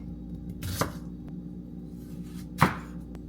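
A blunt knife cutting through a tomato on a board: two separate sharp thudding chops about two seconds apart, close and fairly loud, with a faint tap between them and no talk.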